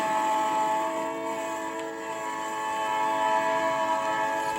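Diesel locomotive sounds played from a 1950s record give a sustained, chord-like horn blast with steady rail rumble beneath, continuous and fairly loud throughout.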